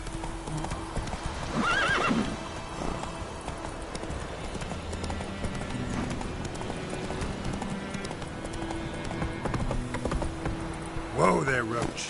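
Roach, the horse in The Witcher 3 video game, whinnies loudly near the start and again close to the end over a steady run of galloping hoofbeats, with game speech and ambient sound mixed in.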